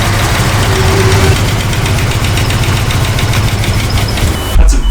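A Nissan Skyline bought on Facebook Marketplace idles with a weird knocking sound. The engine rumbles loud and close with a steady mechanical clatter running through it, and no one speaks.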